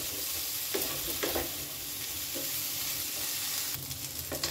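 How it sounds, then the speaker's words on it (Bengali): Potatoes, capsicum and onion frying in a pan with salt and turmeric, a loud steady sizzle broken by several scraping stirs, no voices present. "প্রায় মিনিট খানেক ধরে আলু, ক্যাপসিকাম আর পেঁয়াজটাকে আমি একটু ভেজে নেব"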